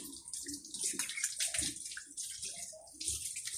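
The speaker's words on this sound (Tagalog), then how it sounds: "Pag ako po naghugas mga kaguro ay dito ako naghugas diretso sa gripo para diretso yung sabon." Bowls are rinsed under a running kitchen faucet, the water splashing continuously and loudly with shifting gurgles as the dishes move through the stream.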